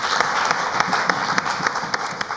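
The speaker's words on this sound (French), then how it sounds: "Applaudissements" An audience applauds, a room of hands clapping steadily at close to moderate distance with no voices over it.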